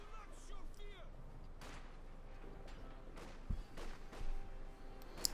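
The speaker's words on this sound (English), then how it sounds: "Bit of shooting here between the Volksgrenadiers and the engineers." Gunfire crackles between Volksgrenadiers and engineers in Company of Heroes 2, a World War II strategy game. It comes as scattered sharp shots and thumps of varying loudness over a busy battlefield background, with some distant booms.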